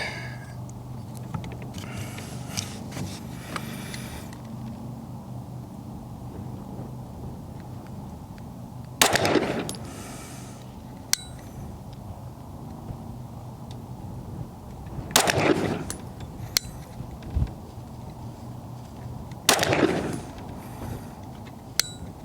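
A PSA Sabre rifle fires at a target 25 yards away outdoors. A few sharp, loud shots crack out several seconds apart over a steady background of wind and low noise.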